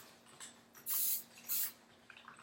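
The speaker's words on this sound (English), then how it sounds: "I'm going to spray this ponytail one more time with some hairspray." Two sustained hissing bursts of hairspray from an aerosol can misted onto a slicked-back ponytail, close and clear, each lasting about half a second with a short pause between, followed by a sharp click.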